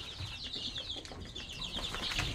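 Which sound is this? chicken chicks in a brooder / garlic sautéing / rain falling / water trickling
chicken chicks in a brooder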